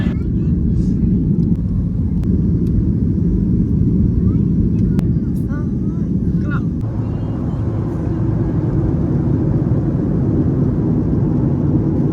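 Steady, loud engine roar fills a Flydubai Boeing 737 MAX 8 cabin as it climbs out after takeoff from Calicut, with dense low rumble throughout and faint voices underneath.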